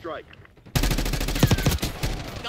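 Rapid automatic gunfire in Call of Duty: Black Ops 6 bursts in loud and close after a brief quiet start, dense shots continuing with a voice mixed in underneath.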